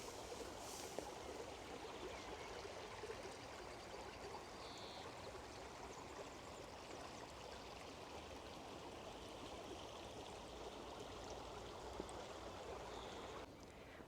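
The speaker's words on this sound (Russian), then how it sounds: "И ручей здесь шумит" A stream in a Tuscan olive grove babbles softly and steadily, its faint, even water noise carrying on without a break for the whole stretch.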